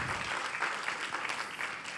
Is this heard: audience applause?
yes